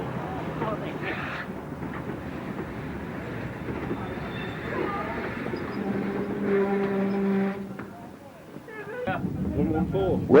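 The first public train on the new Nene Valley Railway line rumbles past outdoors with steady rolling noise, wind buffeting and a sustained tonal whistle, while a voice talks over it.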